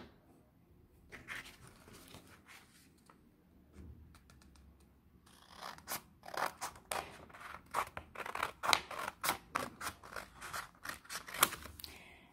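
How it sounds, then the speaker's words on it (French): Scissors snip through material in a quick run of close, crisp cuts, starting sparse and quiet, then building into a dense, steady series of sharp clicks. "je vais venir et je vais couper ici"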